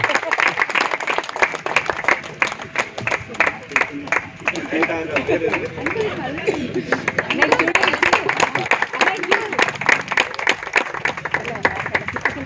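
An audience at a choir program claps continuously, a dense, loud wash of applause that stays steady throughout, with voices and crowd noise mixed in beneath it.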